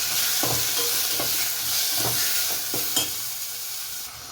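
Chopped onion and tomato fry in oil in a pan with a steady sizzle, broken by several soft scraping stirs of a spoon, close up and without talk.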